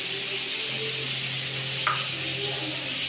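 Potatoes fry in a pan in a home kitchen with a steady, even sizzle and a faint metallic clink partway through.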